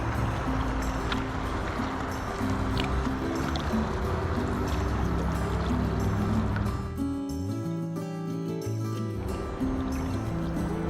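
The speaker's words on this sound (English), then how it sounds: "Now here I'm coming up to the dock, and this is the busiest time for any paddler trying to maneuver your boat." A kayak paddled on Buffalo Creek, a stream polluted by acid mine drainage, as it nears a dock: steady soft water swishes and trickles beneath a continuous low droning hum, with a brief tonal shift near the end.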